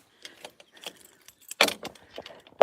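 Keys jangle as they are hung up indoors after being pulled from a car door or ignition, a short loud burst of clinking after quieter scattered rattles, with no talk.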